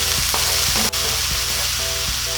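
Corned beef hash ingredients with onions fry in a pan, giving a loud, constant sizzle close up, with a few soft scrapes of stirring and one brief sharp knock, and no talking.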